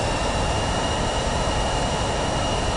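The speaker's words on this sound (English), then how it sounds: "Studio's jet is super loud." A jet engine roars loudly and steadily in Microsoft Flight Simulator 2024, a dense, continuous broadband rumble and whine with no pauses and no voices.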